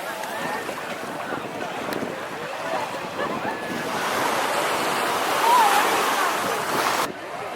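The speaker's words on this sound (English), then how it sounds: "The waves are coming." Ocean waves wash onto a beach at Cabo San Lucas in a continuous rushing surge that swells louder partway through, with wind buffeting the microphone.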